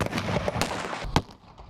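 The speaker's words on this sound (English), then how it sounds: "The first blast, a simple mortar." A simple firework mortar detonates in a sharp, loud blast, followed by a second crack and a short fading rumble, heard alone outdoors.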